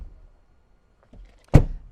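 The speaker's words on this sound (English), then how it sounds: "So we're going to close the doors." Door of a 1991 Mercedes-Benz 420 SEL W126 being shut: a faint earlier click, then one solid, close thunk near the end.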